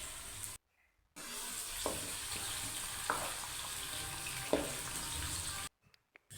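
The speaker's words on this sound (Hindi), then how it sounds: "हम हल्का सा सुनहरी कर लेंगे प्याज को।" Steady sizzling of onions frying in hot oil, with a few soft stirring clinks, continuous and close, no talking.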